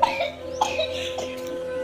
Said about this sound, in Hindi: आपको खांसी अभी ख़त्म नहीं हुई।